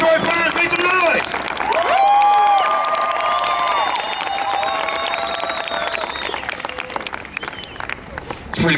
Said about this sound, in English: Let's have a round of applause for Staff Sergeant Robbins, ladies and gentlemen. Sanitary Players, make some noise!